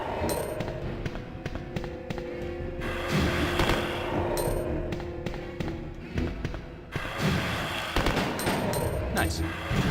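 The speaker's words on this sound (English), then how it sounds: "Automatic pistol." Automatic pistol gunfire in the video game Resident Evil 2: rapid bursts of sharp repeated shots in two clusters, loud and close, separated by quieter game ambience.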